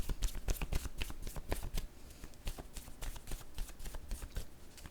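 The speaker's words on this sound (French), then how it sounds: "Je vais déposer une carte mot sur chacune d'elles." Word cards being dealt out one by one for a card reading, close up: a quick run of crisp slaps and papery flicks, some grouped tightly and others spaced, with no voice over them.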